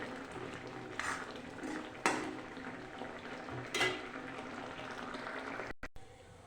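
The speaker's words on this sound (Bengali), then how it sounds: "ভালো করে নাড়াচাড়া দিয়ে নামিয়ে দেব।" Egg curry being stirred in a pan after garam masala goes in, with a spoon scraping and clinking against the metal in a few distinct strokes over a low simmering background.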